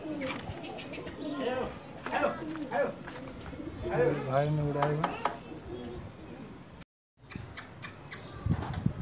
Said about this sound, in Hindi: नए कबूतर उड़ाए हुए हैं